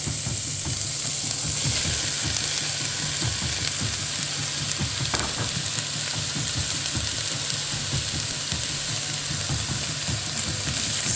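Chopped zucchini frying in a pan with quinoa, giving a dense, even sizzle that holds steady and close throughout, with no talk over it.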